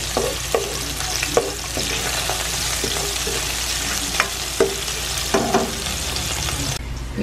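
Garlic and onion sautéing in a pan, a continuous close sizzle with several sharp clicks and scrapes of a spatula scattered through, no voices.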